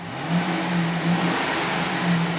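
A 2008 Chevy Silverado LTZ 4WD with a 5.3-liter V8 revving while parked, several short rises in engine pitch over a steady low idle, moderately loud and close.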